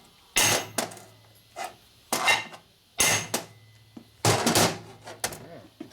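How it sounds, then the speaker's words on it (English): Heavy hammer blows on a stuck Harley panhead motor part while mocking up a junk race engine for land speed racing: about five loud metallic impacts in irregular bursts, each with a short ringing tail, close up and without talk. "Bigger hammer."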